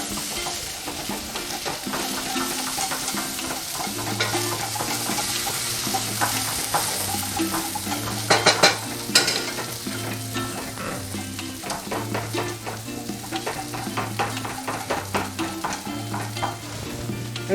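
Sour cream is whisked into a sauce in a pan taken off the heat, with a steady scraping and stirring rhythm and a soft sizzle, while music plays throughout.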